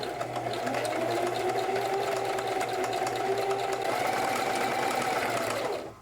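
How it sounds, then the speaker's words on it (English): A sewing machine runs a steady, continuous stitching seam across the front and back collar pieces of a wrap peacoat, with a close, even mechanical hum and no pauses for about six seconds. "I'm going to sew it to the other half of the front here along the back collar piece"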